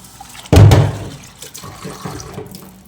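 Tap water gushes into a vessel of rice that is being soaked for mutton dum biryani. A sudden close splash opens the sound, then it settles into a softer trickle and a few light splashes.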